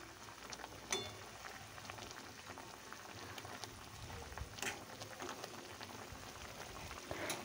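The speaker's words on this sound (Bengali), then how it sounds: "মাছের ঝালটা রান্না হচ্ছে এই ফুটে গেছে" A pot of Bengali fish curry at a rolling boil, bubbling and popping steadily with a soft, rain-like patter and a few sharper pops near the start and middle, fairly close, with no talk over it.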